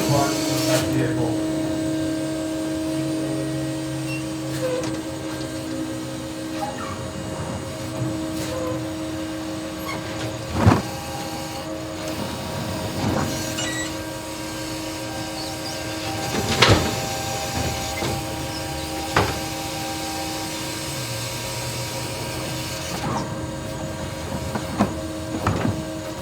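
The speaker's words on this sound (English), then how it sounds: "the only thing you're hearing are the hydraulics that are also being driven by the electric part of that vehicle" The electrically driven hydraulics of an electric garbage truck give off a steady mechanical hum and whine, broken by occasional clanks and knocks. The sound stays fairly constant at moderate loudness.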